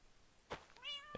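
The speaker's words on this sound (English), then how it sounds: "Kitty." A cat in Minecraft gives a single short, clear meow, faint and close, preceded by a soft click and with nothing else around it.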